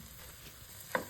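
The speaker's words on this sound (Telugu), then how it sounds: "వీటిని మళ్ళీ మనం బాగా కలిసేలాగా మనం వీటిని వేయించుకుందాం" Eggs frying in a pan, a faint, steady sizzle with a single brief clink of stirring near the end, close up and with no talk.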